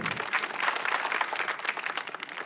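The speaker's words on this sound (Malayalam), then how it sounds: "വലിയൊരു കയ്യടി for this amazing talent" An audience at a televised comedy talent show applauds, a dense, even patter of many hands clapping, moderately loud and continuous throughout.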